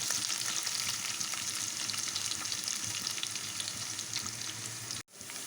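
Tempering spices sizzle steadily in hot oil for a ridge gourd curry: a loud, continuous crackling fry that is close up and without talk, then cuts off abruptly near the end.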